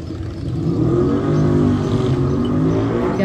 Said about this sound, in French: il y a aussi de la circulation de motos